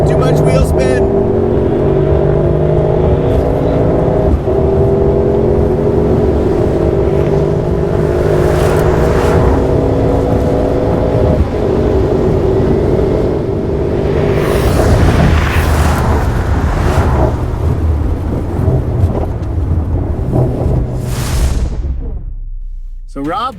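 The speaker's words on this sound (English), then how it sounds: "Too much wheel spin, too much wheel spin!" A RENNtech-tuned Mercedes-AMG GT55 and an AMG GT63 launch hard from a standing start, engines roaring and rising in pitch with wheel spin, loud and close for most of the stretch as excited voices shout over them.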